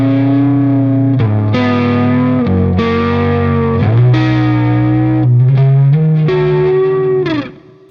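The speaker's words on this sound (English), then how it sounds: "so now we'll just put the reverb back into the vibrato." Electric guitar run through a Vongon Ultrasheer pedal, reverb feeding into vibrato: sustained, wobbling chords with a diffuse, blooming wash, changing every second or so over about eight seconds, loud and alone before trailing off at the end.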